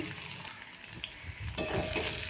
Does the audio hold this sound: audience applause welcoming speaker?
no